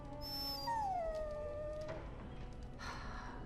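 A dog in Dragon Age Origins lets out a high, drawn-out whimpering howl that slides downward in pitch, fairly close and alone, followed by a softer whine.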